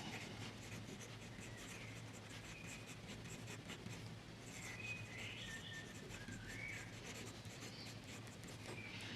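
Faint, steady scratching of a fine-nib Pelikan fountain pen moving across paper with red ink, quiet and close, with soft background hiss.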